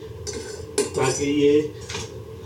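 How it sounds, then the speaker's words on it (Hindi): A metal lid clatters onto a cooking pot of semolina left to soak, giving a few sharp close clinks and scrapes in quick succession, with a faint voice in the background. "अब इसको मैं 2-3 मिनट के लिए ढकना लगा दूंगा"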